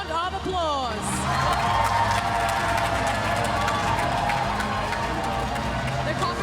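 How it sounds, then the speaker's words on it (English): Crowd cheering, whoops and applause for the top four finalists at the 2018 Miss Universe Malaysia pageant, a loud sustained wash of clapping and shouting that carries through the whole stretch. "Please give them a big round of applause."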